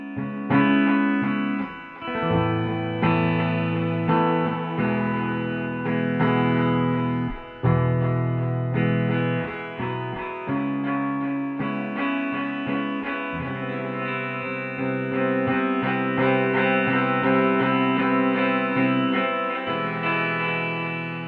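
A distorted electric guitar through the Klevgrand Stark CM amp-sim plugin plays sustained chords and notes, each echoed by spacious stereo delays, right side offset 25 ms, mix around 65%, smearing into a wide, shimmering wash.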